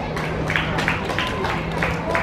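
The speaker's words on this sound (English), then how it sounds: "Give him a clap." Scattered crowd clapping at an athletics track meeting after a 1500m race finish, a loose rhythmic patter mixed into a steady noisy crowd background, with a commentator's voice over the top.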